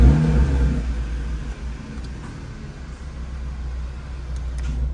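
An Audi A3 engine fires up and revs, a loud low rumble right after starting that settles into a steady idle with slight surges, close by and with no talk over it.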